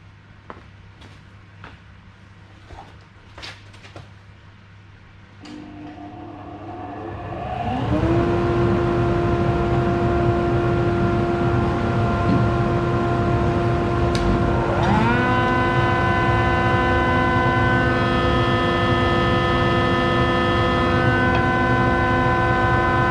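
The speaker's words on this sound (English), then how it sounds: "The thing spins, shaves off some timber." A woodworking machine with a spinning drum carrying three tungsten carbide blades shaves timber in a workshop. A quiet start with faint clicks and knocks gives way to a motor spinning up. A loud, steady whine and drone then holds, with a second rise in pitch partway through.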